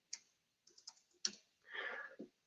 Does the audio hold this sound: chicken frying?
no